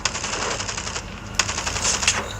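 Rapid automatic gunfire from the Call of Duty video game rattles in dense, continuous bursts, loud and close, with no talk over it.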